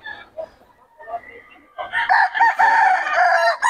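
Rooster crowing loudly and close at a busy poultry market in Bocaue, following softer clucks and murmur from other birds; one long, strained crow fills the last part.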